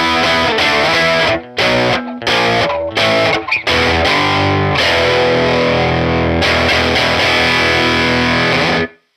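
An electric guitar on its bridge pickup overdrives a Universal Audio Woodrow 55 amp. Loud, crunchy distorted chords are struck in short choppy bursts, then ring out in long sustained strums before being cut off abruptly.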